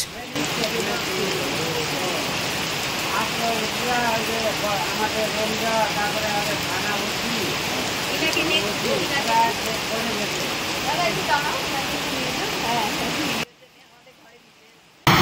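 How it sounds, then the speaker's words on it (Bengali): Heavy rain pours steadily and loudly at night beside a river in Jhalong, North Bengal, a dense continuous hiss with scattered splashes, ending in sudden silence near the close. "সন্ধে থেকে সারা রাত হলো অঝোরে বৃষ্টি"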